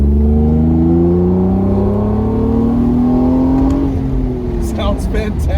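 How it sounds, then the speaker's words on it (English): A first-generation Acura NSX engine running loud and close, its tone climbing steadily as it revs up before easing off, with a few brief sharp ticks near the end. "Let's listen to this engine."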